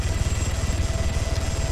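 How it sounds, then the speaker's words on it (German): A truck engine rumbles in Arma 3 as the vehicle pulls away, a loud, close, pulsing low drone without pause. "Der LKW bewegt sich."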